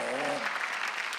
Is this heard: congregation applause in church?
yes